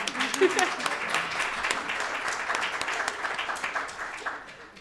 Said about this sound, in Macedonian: тука е моментот кога вие давате аплауз